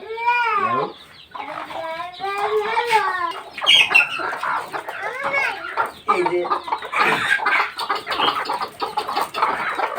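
About 25 to 30 chickens cluck and squawk repeatedly, close by, in hot weather, with a brief spoken remark mixed in among the birds.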